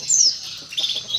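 A white F1 SF canary sings after moulting, sweeping high, bright warbled notes with a curved, bending contour in two short close phrases, heard alone.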